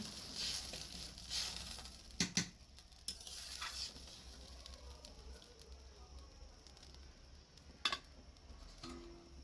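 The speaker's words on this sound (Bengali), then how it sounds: "এবারে দিয়ে দিচ্ছি পরিমাণ মতো জল।" Water is poured into a sizzling fish curry with potatoes in a pan, producing a soft hiss and sputter with a few sharp clinks and ticks, fairly quiet and close.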